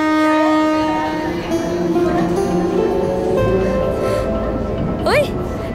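A train sounds a sustained tonal horn over a low rumbling roar, loud and fairly close, with a brief rising whine near the end.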